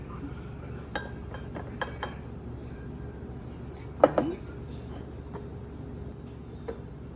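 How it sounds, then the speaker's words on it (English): A metal utensil clinks against a tteokbokki pan while rice with a crispy grilled bottom is served out of it at a Korean restaurant table. Scattered light clinks, with a brighter cluster midway, rise over a steady low room hum. "I have to serve the rice out of the tteokbokki."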